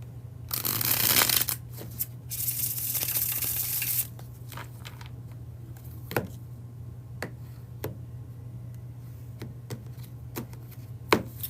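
Bridge shuffle of a playing card deck during a tarot reading: a dense riffle burst of rapid card flutter lasting a few seconds, then sparse soft ticks and taps as the cards settle, close and alone with no talk.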